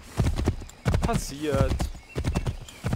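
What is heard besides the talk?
horse hooves clip-clopping in video game Assassin's Creed III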